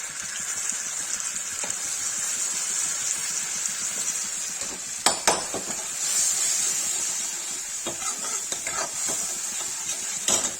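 Hot oil hissing and sizzling steadily in a pan while bitter gourd is fried, a continuous bright crackle with a few sharper pops midway, close and fairly loud, without talk.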